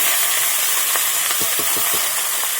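Vegetables fry in oil with black cumin, giving a loud, continuous, close sizzle, with a few soft knocks of stirring partway through.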